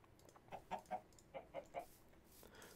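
Chicken clucking from the Minecraft video game, a series of about six short clucks in an uneven rhythm, fairly faint and close, with no talk over them.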